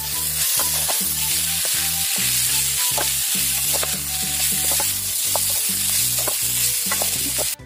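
Bamboo shoots fry in a pan at an outdoor forest camp, with a steady sizzle under repeated rhythmic scrapes of stirring, close and alone without speech.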